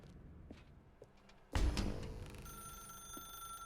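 A telephone ringing in the video game The Stanley Parable: Ultra Deluxe, a sudden loud burst followed by a sustained steady bell tone, after faint footsteps.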